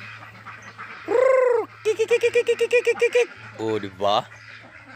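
Peking ducks calling nearby: one long drawn-out honk, then a rapid run of about ten rhythmic quacks and a few shorter calls, with a person briefly speaking over them.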